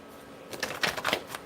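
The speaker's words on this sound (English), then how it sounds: "I can't stand it. I have to shuffle it." Tarot cards being shuffled by hand at a reading table, a brief run of soft riffling flutters, close and fairly quiet.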